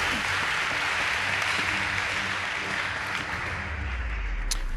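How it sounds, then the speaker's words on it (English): A school debate audience breaks into sustained applause after a team's score is announced, a dense steady clatter of many hands filling the hall. "Please give them a round of applause."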